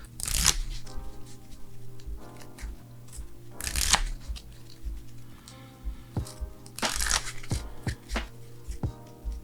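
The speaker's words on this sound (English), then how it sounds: "let's get everything shuffled up" A deck of game cards is shuffled up close, with repeated riffle bursts of crisp fluttering clicks several seconds apart, separated by quieter taps and handling noises.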